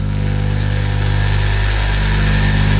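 A drill bit is sharpened freehand on a bench grinder, producing a steady loud motor whine with a constant hum and a faint grinding hiss throughout, no speech.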